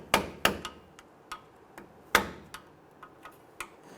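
Metal taps from a flathead screwdriver or chisel tip working the edges of a rusted rear axle seal on a 2006-2010 Hummer H3, a sparse series of sharp knocks and lighter ticks at uneven intervals.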